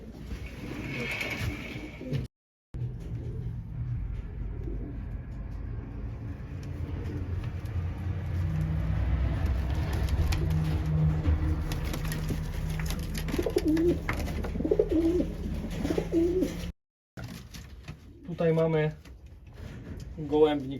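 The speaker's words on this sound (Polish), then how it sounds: "siedzą tutaj gołębie pocztowe, 16 gołębi pocztowych, 8 cel, nie jest on za duży." Homing pigeons cooing in a small breeding loft with eight cells, a continuous low cooing murmur under a voice, with a couple of brief cuts and some rustling and knocks near the end.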